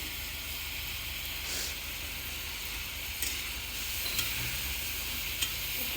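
Food roasting in a pan in a Punjabi village kitchen gives a constant, even sizzle, close and moderately loud, broken by a few faint clicks of stirring, with no one talking.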